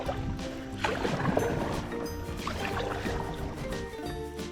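A canoe being paddled through water, with close splashing and swishing strokes, dripping and gurgling around the hull over a constant outdoor background, no talk.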